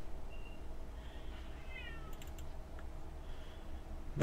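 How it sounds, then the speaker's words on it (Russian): A cat meows several times, drawn-out rising and falling cries over a low indoor hum, with a few soft taps in between. "Да что ты орешь, мой друг дорогой? Кот Тимофей."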